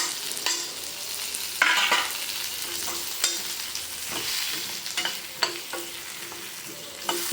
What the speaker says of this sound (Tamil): இப்போ நல்லா அந்த கத்திரிக்காயில் எல்லா பொடியெல்லாம் நல்லா கலங்கணும்